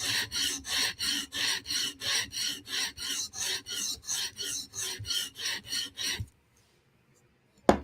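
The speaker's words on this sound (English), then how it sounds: "Let's just do one quick pass on this side, line up scratch pattern, but we're profiled. Sweeping strokes, reduce the burr." A knife edge is drawn in sweeping strokes across a stone on a Hapstone RS guided sharpener: about a dozen even, close rasping passes in steady rhythm, then near-silence ending in a single small click.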